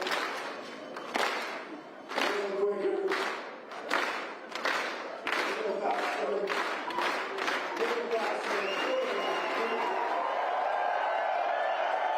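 Spectators at the start of a mountain running race clap together slowly in unison. The claps are steady and evenly spaced, loud and fairly near, with a voice calling out between them.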